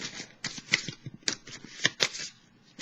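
Cards from a pink Doreen Virtue oracle deck are shuffled and drawn, giving a series of soft, quick papery flicks and riffles close up, with no talking.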